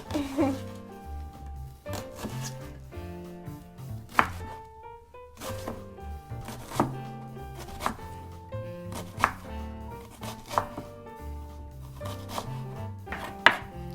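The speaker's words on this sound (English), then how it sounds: "to chop this onion, I'm just slicing through lengthways and then lengthways the other way" A knife chops an onion lengthways on a board, sharp rhythmic cuts recurring roughly every second over soft background music, close and fairly quiet.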